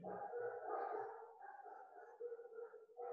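A dog barks and howls indoors in drawn-out, wavering calls, a few sustained cries at moderate distance with no talk over them.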